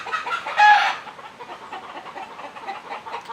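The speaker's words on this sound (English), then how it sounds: "Now the chickens are starting to sing their songs." Chickens clucking and calling on a permaculture farm, a louder squawk near the start giving way to a steady murmur of clucks that carries on throughout at moderate volume, with no talk.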